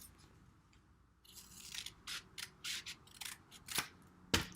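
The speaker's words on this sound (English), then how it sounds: "I'm going to cut this extra part off." Scissors cutting the extra part off a paper shape, a series of close, crisp snips in an irregular rhythm, each a short sharp cut, with a louder final snip.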